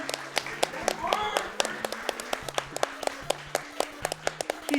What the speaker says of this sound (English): everybody give a round of applause for Bert.